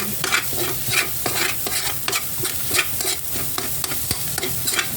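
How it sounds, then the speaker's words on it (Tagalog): Fried rice being stirred in a frying pan, with steady sizzling and frying under repeated scraping strokes of a utensil in a quick, uneven rhythm, close and moderately loud with no talking. "Tapos, haluin ko ng maigi."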